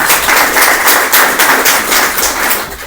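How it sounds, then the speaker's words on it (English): Luncheon audience applauding sponsors: dense, loud clapping from a large crowd filling the room, sustained and close throughout. "We have a round of applause for the rest of our sponsors."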